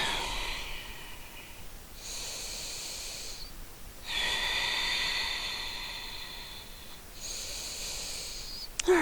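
Deep, slow yoga breaths during a core workout, three long airy exhalations a few seconds apart, close and moderately loud, with a brief sharper sound at the end.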